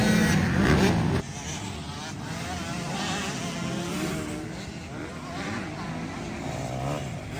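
A race car on a festival track revs and accelerates, a high buzzing engine whine that drops after a loud opening second and then holds steady at mid distance, with a voice talking faintly underneath.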